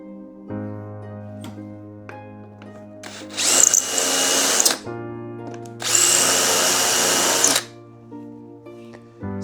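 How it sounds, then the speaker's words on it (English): Power drill deepening countersinks for screws in a 1/6 scale Panzer III model hull, two loud, harsh grinding bursts of about a second or two each over a steady low motor hum. "so I'm making the countersink a bit deeper"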